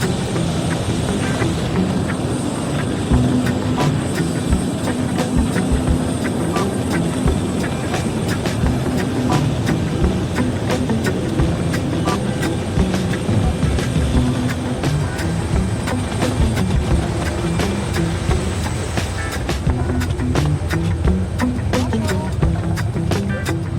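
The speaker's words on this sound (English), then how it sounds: "But I like the noise. I love airplanes." A steady, loud roar of aircraft engines at Cincinnati airport, continuous and droning for the whole stretch, with some faint clattering on top.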